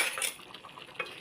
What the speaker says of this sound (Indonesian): Kita aduk sebentar.